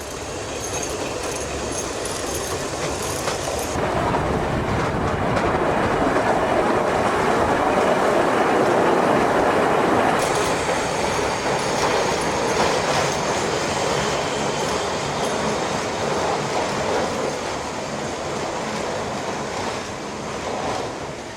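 A narrow-gauge Schynige Platte rack railway train rolls across a viaduct over the Lütschine with a steady rumble and rhythmic wheel clatter, fairly loud and continuous, with no voices.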